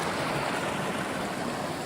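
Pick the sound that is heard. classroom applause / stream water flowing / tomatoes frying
stream water flowing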